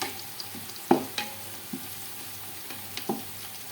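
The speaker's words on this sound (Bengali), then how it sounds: "এই তো আমার পেঁয়াজ হয়ে গেছে, আর বেশি ভাজবো না। দেখেন বেশি ভাজলে আবার পুড়ে যাবে" Onions fry in a large pot for a home biryani cooked for about fifteen people, a quiet sizzle with a few soft stirring knocks and clicks scattered throughout; no voices.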